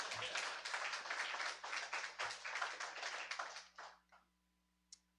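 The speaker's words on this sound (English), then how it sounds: "give yourself a round of applause" Audience applause from a small crowd at a sailing talk, steady dense clapping for about four seconds before fading out, followed by a single sharp tap near the end.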